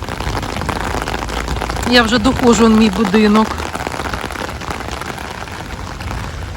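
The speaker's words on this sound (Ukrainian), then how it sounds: "А це прям такий зашелестів дощик." Light rain rustles steadily outdoors, a continuous soft patter throughout, with someone speaking briefly over it.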